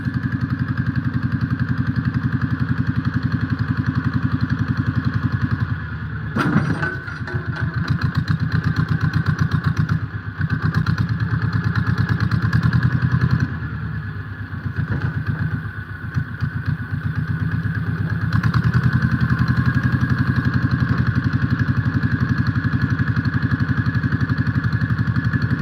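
A tractor engine runs steadily while logs are off-loaded with its forks, a loud, continuous mid-pitched drone that surges and dips slightly as the load shifts, with brief knocks partway through.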